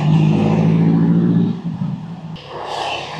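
A car passes close by on a hot, dusty road in Sumatra, its engine hum loud and steady before fading, then a brighter rush of tire and wind noise follows.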